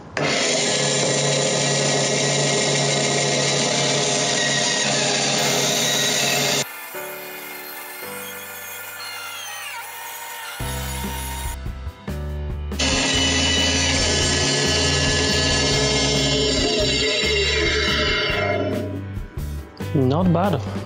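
A Charnwood B250 10-inch bandsaw runs with a loud, constant whine and drone while it cuts shapes in a board, the motor tone pausing briefly in the middle and then resuming.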